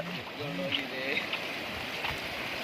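Monsoon floodwater runs through a stream beside a field, a soft, steady wash of flowing water in the background while a person talks over it.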